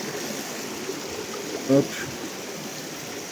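River water flowing steadily during a mountain hiking trek crossing, a continuous broadband rush with a brief spoken exclamation and a splash-like burst partway through.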